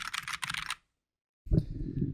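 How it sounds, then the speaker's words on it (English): Rapid clacking keystrokes on a Keyboard Lab mechanical keyboard, close and crisp, stopping abruptly into silence before a few heavier thocks and rattles resume. "So what's so cool about a mechanical keyboard?"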